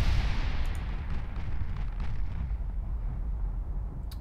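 Heavy 8-inch naval guns of a warship thunder in a naval battle game, a continuous dense rumble of distant cannon fire and explosions with a brief crackle near the end.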